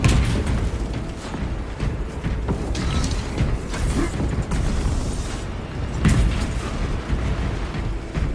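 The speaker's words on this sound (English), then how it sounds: "Engaging thrusters!" Thrusters engaging in Space Marine 2, a mechanical rumbling and creaking surge with booming bursts, continuous and moderately loud with no talk.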